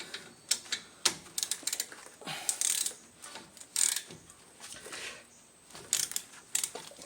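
A ratchet with a 14mm socket loosens a front brake caliper bolt on a 2010 Kia Soul, with bursts of rapid clicking and a few heavier metallic clunks, close and loud, with no talking.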